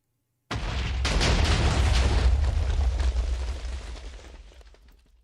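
A loud, heavy explosion in a video game map bursts suddenly from silence, then roars and rumbles for several seconds before gradually dying away.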